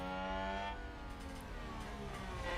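Racing car engine from the F1 Manager 22 video game at the Spanish Grand Prix, a steady, dense, harmonic mechanical drone with pitch shifting as the car accelerates; continuous, loud and close, with no talk over it.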